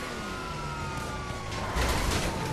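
A fire engine's siren wails in GTA 5 Online, faint and some distance off, behind a steady drone of game noise with a brief thump near the end.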